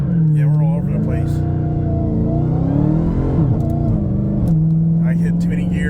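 A car pulling away from a stop in second gear, its engine droning steadily and loudly, then rising and falling in pitch as it revs, with a voice talking over it.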